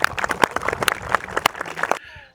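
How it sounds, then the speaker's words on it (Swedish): Audience applause for the owner's wife Ilona at Gårdsjö Älgpark moose safari in Sweden, a couple of seconds of scattered close hand claps mixed with voices, then cutting off abruptly to quieter ambience. "Give my wife Ilona a big applåd."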